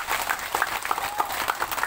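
Applause for Jesus Christ at a Christian revival gathering in Amanatun Timur, a crowd clapping steadily and loudly throughout, with scattered sharper claps standing out.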